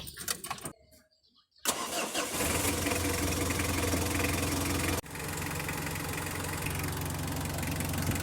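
A Mitsubishi L300 with a 4D56 diesel engine cranks briefly, catches with a loud clattering start, then settles into a steady, knocking diesel idle, close by.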